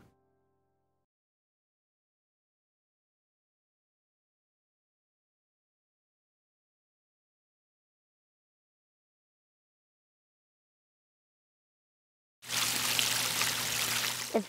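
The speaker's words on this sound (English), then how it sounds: "It's like the sound of the waterfall soothes me a little." Garden waterfall flowing, a steady rushing wash of falling water that bursts in abruptly near the end after long near-silence, close and fairly loud.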